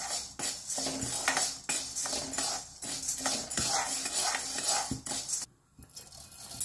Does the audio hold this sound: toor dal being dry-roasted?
yes